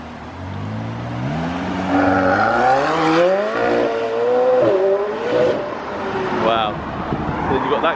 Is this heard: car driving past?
yes